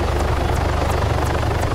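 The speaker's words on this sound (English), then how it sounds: "I hear a chopper." A video game helicopter flying close by, its loud rotor and engine thrumming steadily for a couple of seconds with no speech over it.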